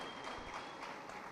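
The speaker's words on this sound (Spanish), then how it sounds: "Un aplauso para Neomar, pues." A congress audience at a national urban agriculture event applauds Neomar, a dense, steady wash of clapping from many hands filling the short moment without a break.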